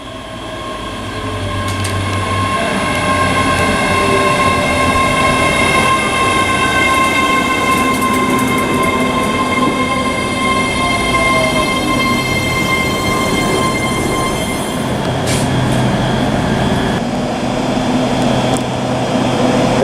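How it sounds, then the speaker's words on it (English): ScotRail class 385 unit 385104 pulls away from a station on the Glasgow Queen Street to Edinburgh Waverley service, with a loud, sustained electric traction whine and a rolling rumble. Clicks and squeals from the wheels come through near the end. "ready to now leave is 385104 with the 1345 ScotRail service to Edinburgh Waverley from Glasgow Queen Street"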